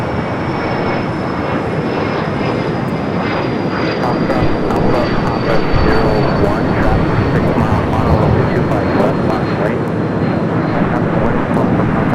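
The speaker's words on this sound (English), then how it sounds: "KLM lined up, ready to go, flight 602" KLM flight 602 takes off at LAX, a loud sustained jet roar that swells and stays strong throughout, with a thin high engine whine drifting downward over it. A voice talks over the noise.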